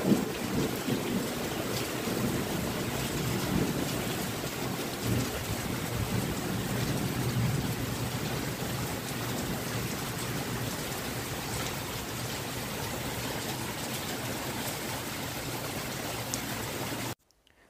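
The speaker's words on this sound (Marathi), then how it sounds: "तर असं भयंकर पाऊस आणि वारं वादळ तेवढंच होतं" A heavy rain and wind storm sweeps over a home garden, a steady, dense roar of wind and rain that rushes without a break, then cuts off abruptly at the end.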